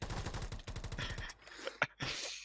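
Rapid bursts of automatic gunfire in a shooter video game, a fast rattling string of shots for over a second, then a couple of isolated sharper reports and clicks.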